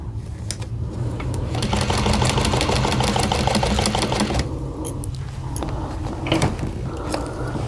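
A sewing machine back stitches a quilt seam, running in a fast continuous whirring burst for several seconds, pausing briefly, then starting again with a few short clicks, close and loud.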